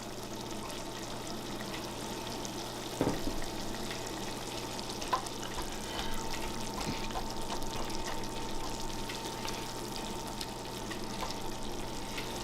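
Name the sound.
sake simmering in a pan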